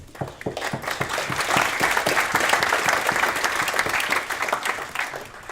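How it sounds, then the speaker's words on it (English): Audience applause for the panelists at a tax policy panel debate, a full room clapping steadily and loudly for several seconds with dense overlapping claps. "let's just have a round of applause for the panelists"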